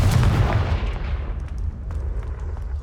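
Confringo fire spell blast in the game Hogwarts Legacy, a loud booming burst at the start that rumbles and decays over a couple of seconds, with faint scattered crackles trailing off.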